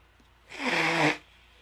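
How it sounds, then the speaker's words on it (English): A single short, forceful nose blow lasting under a second, close and fairly loud against a quiet background. "blow my nose a little bit"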